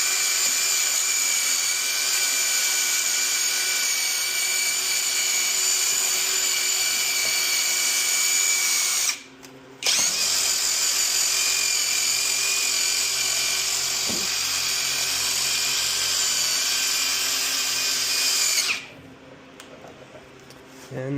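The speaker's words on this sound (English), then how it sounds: "We're going to take our wire brush on our impact driver," A high-pitched impact driver whirs steadily with a wire brush grinding a 2010 Audi A4 rear wheel hub, stopping briefly midway, then resuming before cutting off near the end.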